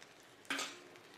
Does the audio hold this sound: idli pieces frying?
yes